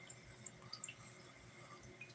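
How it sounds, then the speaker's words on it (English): Water trickles and drips from a refrigerated drinking fountain in a park by a reservoir, a faint, steady patter of small drops with soft splashes, quiet and close throughout. "Now, this should be a refrigerated water drinking fountain."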